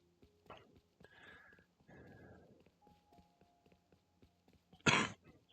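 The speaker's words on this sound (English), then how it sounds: "I still have a little bit of a cough there, guys." A few short coughs and throat clearing from a man close to the microphone, spaced out over several seconds and ending with a louder, harsher burst.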